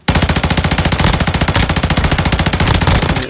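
Automatic gunfire in Call of Duty Warzone Mobile, a rapid, loud, evenly spaced burst of shots firing continuously for about three seconds with no pause or talk.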